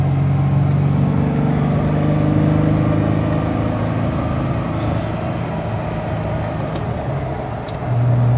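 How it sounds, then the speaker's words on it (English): A Ford Bronco II on a test drive after driveshaft and U-joint work makes a loud, steady engine and road drone, heard from inside the vehicle with no break. "I'm going to go for a test drive now and see if there's any vibrations or anything like that,"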